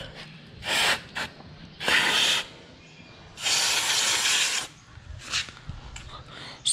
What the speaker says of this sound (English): I am spraying as liberally as I can.